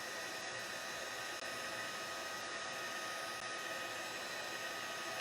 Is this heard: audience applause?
no